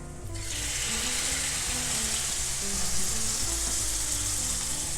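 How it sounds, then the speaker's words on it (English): Peeled, deveined frozen shrimp go into a hot frying pan with a sudden loud hiss that settles into a steady, close sizzle and spatter, with no one talking. "I'm ready to add my shrimp now that the pan's nice and hot"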